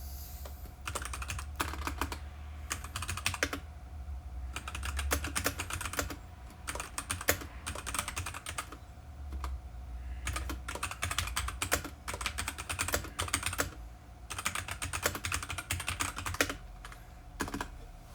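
Steady typing on a compact Bluetooth wireless keyboard, either a Logitech MX Keys Mini or a Red Dragon Castor Pro, with quick clicking keystrokes in bursts separated by short pauses, close and fairly quiet.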